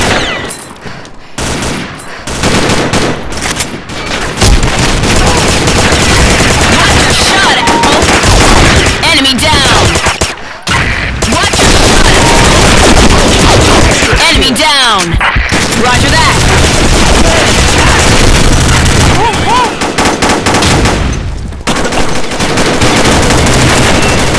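PP-19 submachine gun in the Combat Arms video game, sprayed in long, loud continuous bursts with only a few brief pauses across the whole stretch.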